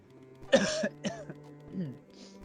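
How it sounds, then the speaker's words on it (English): A person coughs a few times close by, two sharp hacks followed by a softer throaty one, with quiet hum behind. "Can also make a noise by coughing."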